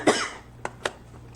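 A few short, dry coughs spaced apart, close to the mic, with a louder throaty burst at the start and quiet room hiss between.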